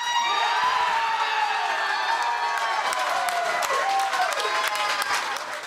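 Excited sports fans packed into a bar cheer on the U.S. team during a game, a loud crowd roar of cheering, whoops and clapping that stays sustained and then eases slightly at the end.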